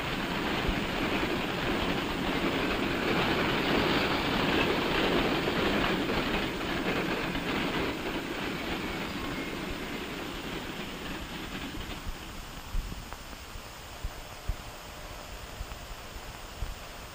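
A train roars past on the rails, loud and broad at first, then fading away into quieter rumble with a few scattered clanks.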